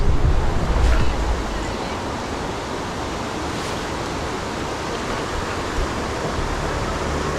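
Broad, steady rushing of the Lecadi river at about 1975 m on a Canigou mountain trail, a continuous close wash of water with a brief louder burst at the start and no voices over it.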